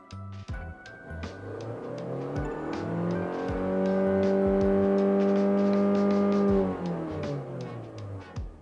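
A 2023 Lexus RX 350 engine heard from inside the cabin with the windows up climbs steadily in pitch as it revs to 6,000 RPM, holds a high whine for a few seconds, then drops back to idle.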